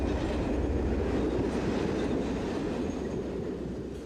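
Locomotive-hauled passenger train with Corail coaching stock running on the Valence to Grenoble line in France, a steady close rumble of wheels on rail with faint clickety-clack throughout.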